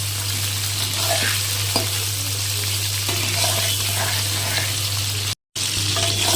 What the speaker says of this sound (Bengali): আগে অল্প করে ঝিঙা নাড়াচাড়া করে নিয়ে একটু ভাজা করে নেব